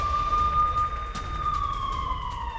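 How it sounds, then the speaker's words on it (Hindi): An air raid siren in Jammu rises and slowly falls in a steady tone, wailing continuously over low rumbling background noise, with no voices. "जम्मू में एयर सायरन बजाए गए"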